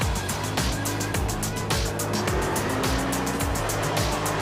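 Dodge RAM Limited 2025 pickup towing an 8,600-pound trailer, engine loud and close as it drops a gear and pulls away, with repeated surges of revving over a steady low drone.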